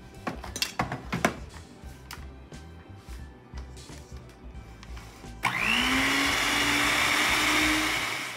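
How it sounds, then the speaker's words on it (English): An electric mixer whirs into steady high-pitched motion partway through, beating red velvet cookie dough after a stretch of clattering bowl and utensil knocks; the motor drones loud and even to the end with no talk. "So now let's start mixing."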